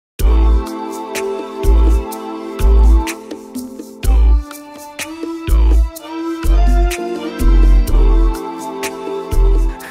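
An R&B sound-library sample repeats a two-note figure with a quick trill over punchy low beats, loud and rhythmic with no speech.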